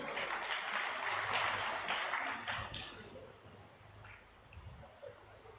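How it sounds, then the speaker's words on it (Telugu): A church congregation claps in praise, a burst of mixed hand claps that thins out and fades after a few seconds, heard from a distance in a reverberant hall. "సంతోషంతో చప్పట్లు కూడా దేవుని మహిమపరచండి"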